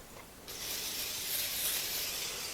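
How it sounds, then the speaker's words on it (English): A can of nonstick cooking spray sprays a 9x13 baking dish in one continuous hissing burst lasting about two seconds, close and fairly loud. "Spray your 9x13 baking dish with some nonstick cooking spray."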